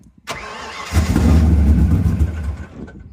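An old car engine, parked since 1999 and short on fuel, cranks after a faint click, then catches into a rough, loud running rumble for about a second and a half before dying away.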